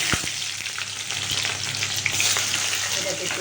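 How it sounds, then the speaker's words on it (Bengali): Panch phoron spices hitting hot oil in a pan, producing a steady, close, crackling sizzle with a few sharper pops. "এর জন্য পাঁচফোড়ন দিলাম"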